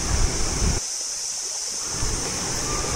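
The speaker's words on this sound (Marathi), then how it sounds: "तर तुम्ही बघताय एक छान सुंदर असं वाहतं पाणी आहे, जे वरतून झऱ्यातून येत आहे" Cold spring water flows down a village channel in the Konkan near Chiplun in the early morning, a steady rushing wash that stays loud and close throughout, with no voices.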